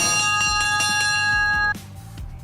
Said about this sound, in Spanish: Conserva incluso la campana que sonaba cada vez que alguien decía «Viajeros al tren»